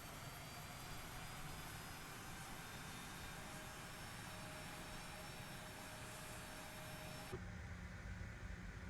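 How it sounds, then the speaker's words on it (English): Aerosoft CRJ-900 regional jet engine running in a flight simulator, a steady, fairly quiet broadband whine and hum that holds evenly throughout, with a brief shift in tone near the end and no talking. "Engine number 1 available, starting engine number 2."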